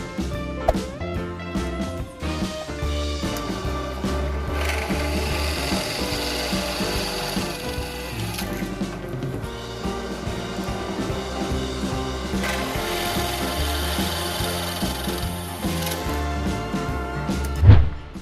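A drill bores 10 mm holes through 1-inch steel angle iron with a continuous grinding, rattling whir that shifts in pitch as it cuts. A louder knock sounds near the end.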